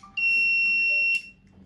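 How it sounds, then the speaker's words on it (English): A homemade IoT fire detector alarm sounds its buzzer, a loud piercing electronic tone starting abruptly and holding steady for about a second before cutting off, close and alone. "the red light will turn on and the buzzer will turn on."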